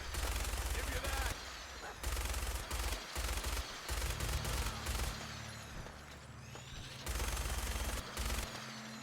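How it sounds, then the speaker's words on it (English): Minigun fire against raiders in Fallout 4, long loud bursts of rapid gunfire broken by short pauses, with a lower engine-like drone and game sounds underneath. "Although with the help of the minigun, Maximus was quickly able to dispatch the raiders"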